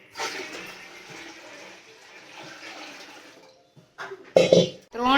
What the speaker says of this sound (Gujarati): તે તપેલાથી હું જુવારના લોટને પાણી લઈશ